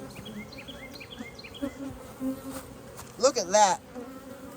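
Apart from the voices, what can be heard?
honeybees buzzing in a hive being split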